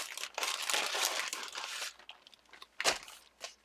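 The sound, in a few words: coffee-dyed paper crinkling while handled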